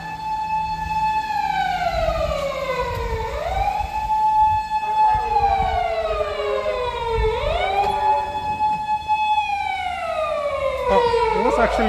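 A loud police siren wails continuously on a Kawasaki street in the evening, its pitch sweeping slowly up and down in repeated long cycles over a low background rumble.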